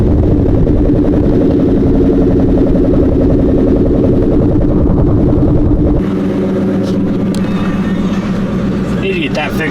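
Ford Mustang Cobra V8 running steadily with a loud, close idle, then the engine note shifts partway through as it keeps running; a voice is heard faintly over the rumble.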